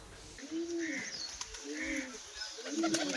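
Pigeons kept at a bird shelter coo repeatedly, three rounded, rhythmic calls close by over soft outdoor background noise, no talk.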